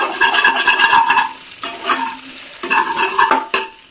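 Egg tadka frying in a pan, with bursts of sizzling and the scrape of stirring coming in three loud waves, close and busy, with brief quieter gaps between them.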